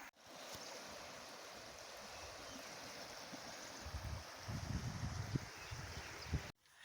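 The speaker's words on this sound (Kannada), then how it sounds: "ಹೋಗ್ತಾ ಇದ್ದು ಒಂದು ಸುಂದರವಾಗಿರುವಂಥ ನದಿ ಸಿಕ್ಕಿದೆ" A river flows on a monsoon trek near Sulsulo Waterfalls in Goa, a steady broad rushing wash of water with heavier low splashing surges toward the end.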